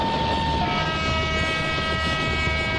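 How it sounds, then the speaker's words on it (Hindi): Twin ALCO WDM diesel locomotives sound a long, steady horn blast in the MSTS train simulator, a sustained multi-tone chord over constant rumbling rail noise, loud and close. "हॉर्न बजाते हुए ट्विन एल्को लोको थे"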